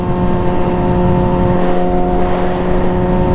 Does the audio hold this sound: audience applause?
no